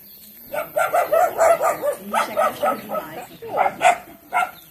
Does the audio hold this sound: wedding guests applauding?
no